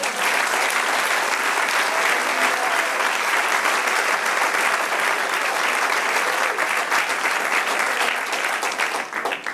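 A church congregation breaks into sustained, dense applause, loud and steady throughout with no speech on top.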